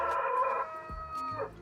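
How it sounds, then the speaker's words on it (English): A rooster-crow bell tone played from the Tarran T1 Pro cargo bike's electronic bell, a short synthetic cock-a-doodle-doo heard close and alone. "Rooster."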